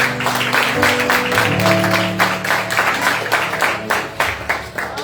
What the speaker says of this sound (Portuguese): Aplauda Ele nesta noite.